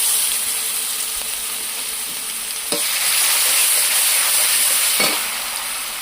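Garlic paste frying in hot oil with sugar, garam masala and bay leaf, left over from frying pointed gourd and potatoes: a loud, steady hissing sizzle close up, with a couple of brief stirring scrapes and no talk.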